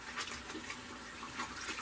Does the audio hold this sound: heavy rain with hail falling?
no